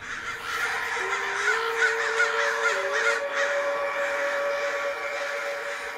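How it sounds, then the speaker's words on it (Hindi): Crows caw over and over in a jungle, harsh repeated calls layered over a steady sustained tone, fairly loud and continuous throughout. "अचानक से हमारे आसपास इतने सारे कौवे कैसे आ गए?"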